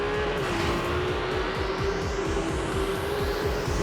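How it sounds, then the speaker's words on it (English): Loud, continuous roar of a Ferrari 296 GTB engine and exhaust, revving steadily with a rising whine throughout. "We worked a lot on the engine architecture, on the combustion and on the exhaust system to create this magnificent sound."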